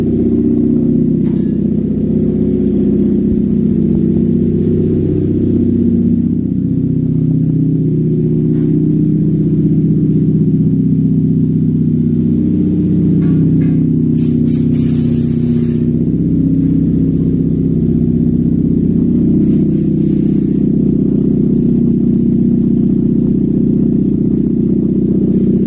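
A 2009 Pontiac G6 engine runs steadily and loud at close range, a continuous low mid-pitched hum with slight shifts in rev and no talking.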